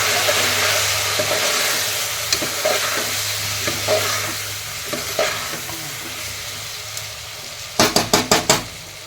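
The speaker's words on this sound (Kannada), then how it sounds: "ಎಣ್ಣೆಯಲ್ಲಿ ಸ್ವಲ್ಪ ಫ್ರೈ ಆಗಲಿ" Turmeric and chili powder masala frying in oil for vangi bath, a steady close sizzle with stirring scrapes, ending in a quick run of sharp utensil taps against the pan.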